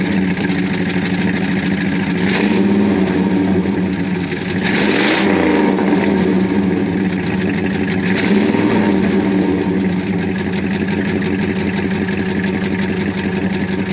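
A second-generation Dodge Ram pickup with a 5.9 Magnum engine and stock Dodge exhaust idles with a steady rumble, then revs up three times, each rev rising and falling back to idle.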